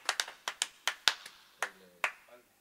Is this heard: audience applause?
yes